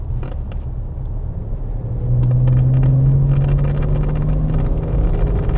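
BMW E90 engine accelerating past 3000 rpm, heard from inside as a deep rumbling drone that rises into a stronger, louder note partway through, steady and close with no talk.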